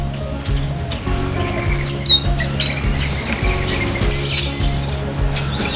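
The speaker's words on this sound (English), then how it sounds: "So lots of activity now at the thistlebag from the lesser goldfinches." Lesser goldfinches call at a thistle feeder in Patagonia Lake State Park on a winter morning, with thin, scattered chirps and squeaky notes. Steady low background noise runs underneath, and no one talks.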